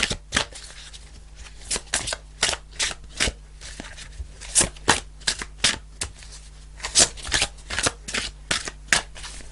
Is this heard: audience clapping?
no